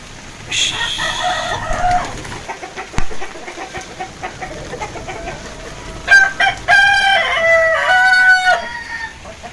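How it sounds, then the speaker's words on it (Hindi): Roosters crow in long, repeated calls while hens cluck and squawk in between, loud and close, with no talking. "सारी मुर्गियां और मुर्गे अंदर आ गए हैं"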